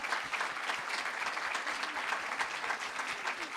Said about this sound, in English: let's have a huge round of applause for XRC Cohort 5